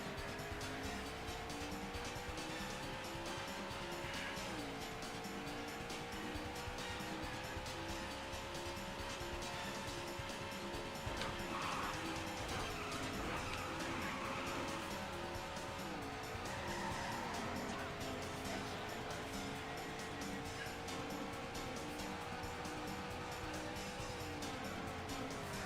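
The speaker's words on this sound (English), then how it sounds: "Stop it! Stop skidding and actually... you're losing speed." Tires skid and squeal in the Daytona USA arcade racer on Xbox 360 over a loud, steady engine drone, with the pitch wavering and dipping as the car slides through turns for the whole stretch.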